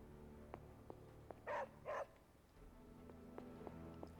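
Dog barking in the video game Marvel's Midnight Suns: two short, mid-loud barks close together, set against a soft game background with faint clicks and ambience, no talk.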